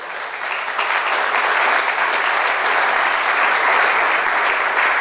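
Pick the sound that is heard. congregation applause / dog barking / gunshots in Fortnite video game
congregation applause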